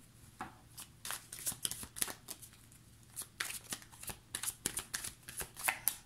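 A deck of oracle cards is shuffled by hand close up during a card reading: crisp, papery riffles and slaps in irregular bursts over about six seconds, with no one talking.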